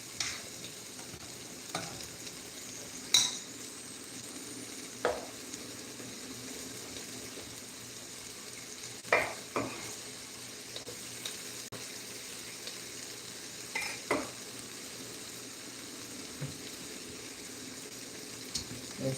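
Garlic fries in a pan for a tofu dish with a soft continuous sizzle, punctuated by scattered scraping and clinking as it is stirred, fairly quiet and close.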